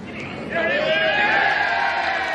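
A gallery of spectators cheering and whooping at the ShopRite LPGA Classic golf tournament, rising suddenly and holding steady, with a commentator's voice over the crowd.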